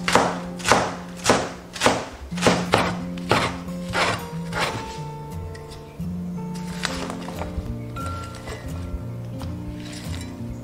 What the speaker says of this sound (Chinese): 我们把洗净的芥菜切成丝